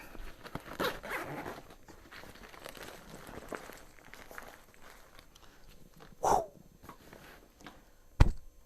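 The main-compartment zipper of a tightly packed budget bug out bag is pulled in short ragged strokes near the start, followed by quieter rustling and handling of the pack and a couple of sharp knocks later.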